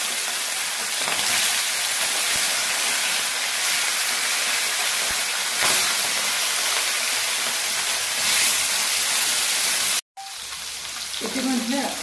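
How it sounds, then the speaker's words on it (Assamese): Fish pieces dropped one by one into hot oil for a bamboo shoot fish curry, a loud dense continuous sizzle up close that cuts off briefly near the end before resuming more quietly. "তেলটো গৰম হৈ উঠিছে ইয়াতে মই মাছখিনি এটা এটাকৈ পেলাই দিলো"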